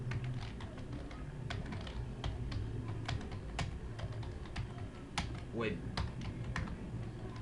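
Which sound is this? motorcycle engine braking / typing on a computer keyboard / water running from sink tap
typing on a computer keyboard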